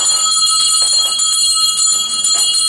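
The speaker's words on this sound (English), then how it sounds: "And we'll ring the dinner bell" A dinner bell rings while sausage wraps with melting cheese are being cooked, a loud sustained metallic ringing with high overtones that fills the whole moment and has no voices over it.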